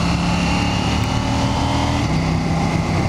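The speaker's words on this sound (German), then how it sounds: "Der Quickshifter greift wirklich auch unterdurch schon gut, auch wenn das Gas nicht ganz offen ist." KTM 790 Duke motorcycle accelerating hard, its engine roaring steadily and close with brief dips as the quickshifter changes gears.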